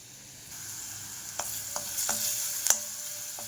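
A tempering for dal sizzles in a hot pan, a steady frying hiss at moderate level broken by several sharp clinks of a spoon stirring against the metal, with no talk.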